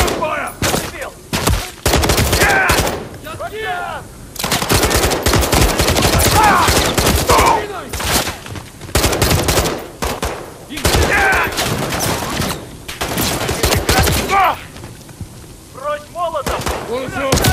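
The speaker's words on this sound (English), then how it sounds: "Contact! I've got Makarov! Return fire!" Call of Duty Modern Warfare 3 gunfire rattles in dense, loud bursts of rapid shots with brief gaps, and voices shout over the fighting.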